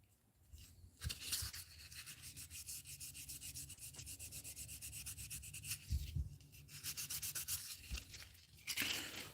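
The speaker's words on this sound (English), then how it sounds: "Oh boy, I'm getting tired doing this sanding." A musky crankbait lure is hand sanded up close in long, rhythmic rubbing strokes with a few short pauses between passes.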